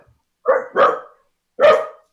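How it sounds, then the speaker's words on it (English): A dog barks three times nearby, loud and sharp: two quick barks close together, a short pause, then a single bark, with silence between. "Don't mind my dog."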